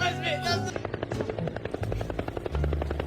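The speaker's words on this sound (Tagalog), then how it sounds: "Helicopter." Helicopter rotor chopping heard as a rapid, steady series of regular thumping pulses over a low engine drone, fairly loud and close, with speech-like voices at the start and end in a comedic meme compilation.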